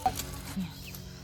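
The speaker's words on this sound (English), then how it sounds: "So I'm gonna show you how much fun they're having with these chickens." Soft, brief clucks from chickens, close by and quiet, with a faint voice in the background.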